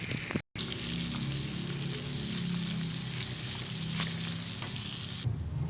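Garlic and onion frying in butter in a pan with tofu, a loud continuous close sizzle with occasional stirring scrapes, no talking.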